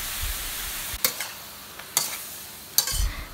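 King oyster mushrooms stir-fried in a pan with oil, a soft steady sizzle broken by three sharp spatula scrapes and tosses, close and without voices.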